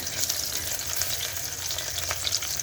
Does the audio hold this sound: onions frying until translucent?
yes